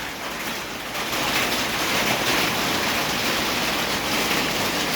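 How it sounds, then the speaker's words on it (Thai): Hail falling hard in a dense, steady roar of patter that grows slightly louder after the first second, with no voices. "ทีนี้มีลูกเห็บลงมาด้วยนะครับ"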